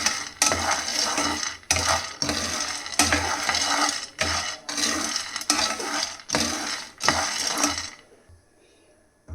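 Peanuts roasting in a pan, stirred with a utensil in repeated scraping, rattling bursts about once a second, close and crisp, then stopping into near silence.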